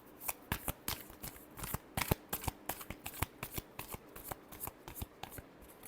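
A tarot deck being shuffled by hand, a steady run of quick papery riffles and card slaps with no voices.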